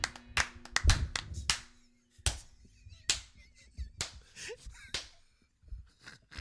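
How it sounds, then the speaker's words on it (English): Scattered hand claps from an audience thanking sisters who helped free inmates, a few sharp separate claps with gaps between them, fairly close and unaccompanied by talk. "Can we get a hand clap for the sisters who helped free these brothers?"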